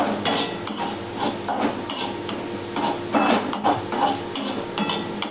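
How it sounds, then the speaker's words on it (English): Utensil scraping and clinking in a pan as salt is stirred into Maggi masala fusilli pasta, with a steady run of close metallic taps and scrapes and no talking. "I'm going to add 1/4 teaspoon of salt here, and I'm going to give it a stir"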